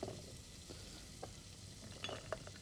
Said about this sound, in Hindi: साथ साथ ये जो प्याज है ये भी भुन रहा है